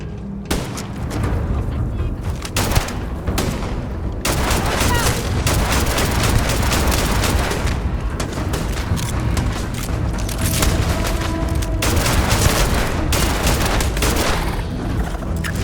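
Gunfire in the video game Starfield, rapid bursts of shots and booming impacts in a continuous loud firefight lasting throughout, with a voice briefly heard among the shooting.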